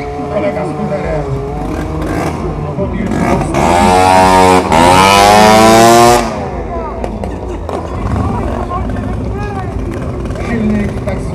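Two-stroke scooter engine revving at an outdoor motorcycle season-opening event, idling then rising into a loud, high, sustained rev for a couple of seconds before dropping back, with someone talking over it.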